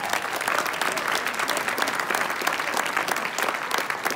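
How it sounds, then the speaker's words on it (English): Graduates at a coding bootcamp graduation ceremony clap for themselves, a steady, lively burst of many hands filling the room without any talking over it. "Give yourselves a round of applause"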